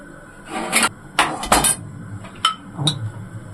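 Pieces of meat dropping into a metal pot for Egyptian baked rice, heard as several sharp clanks and clinks of metal on metal, some close together and then spread out, in an otherwise quiet kitchen.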